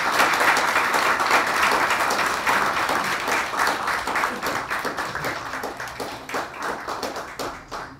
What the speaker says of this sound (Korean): 마찬가지로 뜨거운 박수 한번 주시기 바랍니다.